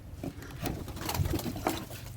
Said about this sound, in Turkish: Her taraf kuş.